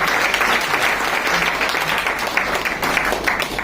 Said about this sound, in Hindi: तालियां होनी चाहिए सर।